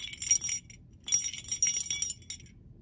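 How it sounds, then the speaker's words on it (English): A small metal bell jingles in two bright, tinkling bursts separated by a short pause, close and clear against a quiet background. "It's our mushroom bell,"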